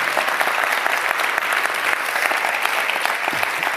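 An audience at a talk on inclusion in the workplace applauding, dense sustained clapping from many hands, loud and even throughout.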